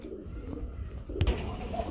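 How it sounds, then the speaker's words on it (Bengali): Black magpie pigeons cooing at a pigeon market, a low soft coo coming up out of steady background murmur and stall chatter. "খুব সুন্দর বলের মধ্যে এক জোড়া ব্ল্যাক মেকপাই পাউডার কবুতর"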